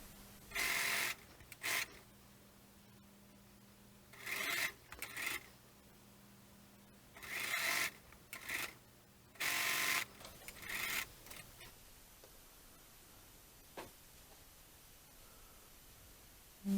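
A sewing machine stitching fabric seams, with ironed-open seams fed flat underneath while sewing a fabric swan; several loud bursts of rapid stitching, separated by pauses and faint handling noise, close up with no talking.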